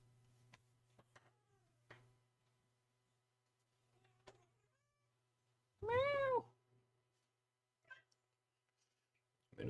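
A pet cat meows once, a loud, clear drawn-out call near the mic in a quiet room with faint ticks and taps around it.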